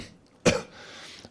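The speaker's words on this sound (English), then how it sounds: "Cough off microphone." A single short cough off microphone, sharp and fairly faint, in an otherwise quiet room.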